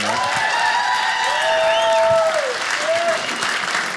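Audience applause fills a comedy club during a stand-up set, steady dense clapping throughout with a few whistles or shouts riding over it.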